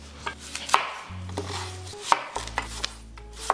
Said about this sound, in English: Now you want to get your medium-sized red onion and we want to cut this up into thinner strips